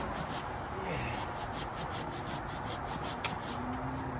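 A hand saw rasps through wood in quick, steady back-and-forth strokes, cutting a notch to fell a tree, close by, with one sharp knock near the end.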